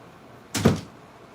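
A room door swings shut with a single brief thump in a quiet workshop where a 3D-printed Iron Man neck piece is being made, the closing sound standing alone against low background hiss.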